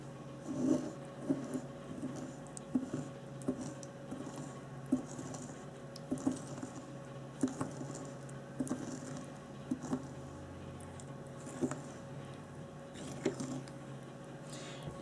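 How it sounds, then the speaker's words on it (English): A chunky lemongrass mixture gets stirred in a jar, giving soft, quiet, repetitive wet squishing and tapping strokes at a steady rhythm. "all I'm doing is I'm topping off the jar and then stirring"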